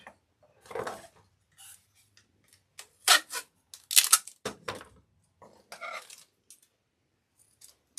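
Scissors with a piece of tape stuck to their blades snip and click in short, irregular bursts while cutting card for a box, close to the listener, with pauses of quiet between the cuts.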